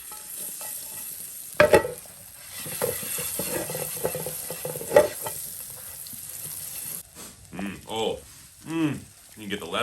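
Minced garlic sizzling in rosemary lemon butter in a pan on a backcountry wood stove at Lake O'Hara, a steady frying hiss with a few clinks of stirring, broken near the end by a voice talking.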